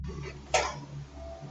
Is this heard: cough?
yes